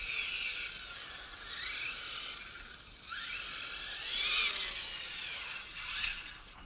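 A Hobao Hyper SS 6S brushless RC cage buggy motor whines at a distance, rising and falling in pitch as the throttle is worked, with sweeping high revs and faint road noise and no talk.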